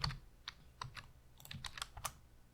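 Keys clatter on a computer keyboard in an irregular burst of quick, close, fairly quiet taps, with no talking.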